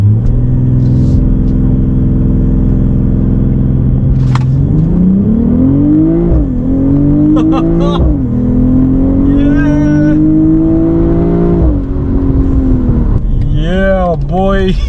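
A 2022 BMW M440i accelerating hard in a pull test, its engine droning loudly and climbing in pitch through several gear changes, close up, with a person talking over it.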